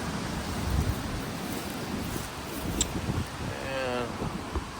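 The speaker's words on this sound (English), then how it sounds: "Windy day back here." Steady blustery wind roaring across the microphone at an outdoor towing and recovery vehicle auction, with faint background sounds mixed in, no clear voices.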